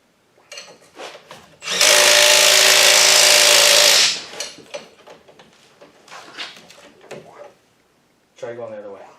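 A power tool tightens an axle nut in one loud, steady whirring burst of about two and a half seconds, with people talking and clanking handling sounds before and after it.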